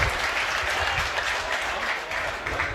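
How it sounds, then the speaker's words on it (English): Stadium crowd at a USL soccer match applauding a substitute defender coming on, a steady wash of distant clapping and crowd noise with low rumble throughout. "Big round of applause for Aaron Long"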